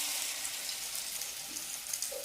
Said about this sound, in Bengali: বড়া ভেজে নিচ্ছি আমার জন্য